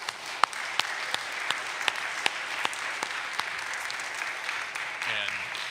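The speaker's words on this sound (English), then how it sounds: "One more round of applause for both of them" A school audience applauds two students after senior thesis presentations, a steady wash of clapping with occasional louder individual claps, lasting several seconds before a voice briefly cuts in at the end.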